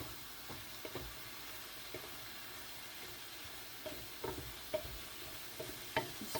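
Ground taco meat sizzles quietly in a pan as spices are stirred through, with soft steady frying and scattered ticks and scrapes from the spoon, growing a little busier toward the end.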